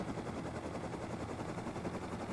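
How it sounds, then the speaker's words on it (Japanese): Helicopter in the survival video game Rust, a steady, dense rotor and engine drone holding at constant loudness throughout, with no talk over it. "ヘリできたー"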